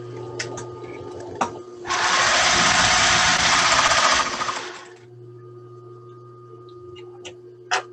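A sewing machine stitches quilt pieces for a wonky eight-point star block in one loud burst of about three seconds, with quieter clicks and low hum before and after.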